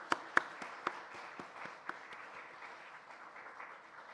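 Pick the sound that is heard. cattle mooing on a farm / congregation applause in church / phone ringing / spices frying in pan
congregation applause in church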